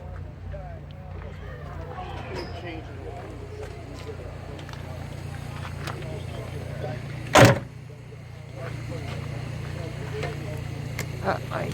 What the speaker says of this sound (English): I'm going to open up the door just to show you.